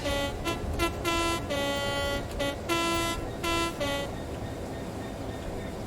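A train horn in Train Sim World 3, on the Southeastern High Speed line, blares in several short and long toots over a steady rumble of engine noise, then stops while the rumble continues.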